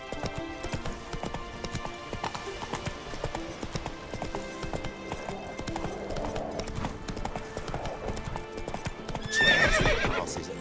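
A horse gallops in The Witcher 3 video game with a fast, steady clip-clop of hooves over ambient game sound, and a loud whinny bursts out near the end.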